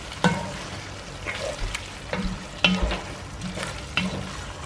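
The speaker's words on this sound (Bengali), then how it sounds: "এটাকে কষাবো, ভালো মতো মিক্স করতে হবে।" Spice masala for chicken biryani sizzles steadily in a pan while a utensil stirs and scrapes it in repeated strokes, each scrape standing out sharply over the frying hiss.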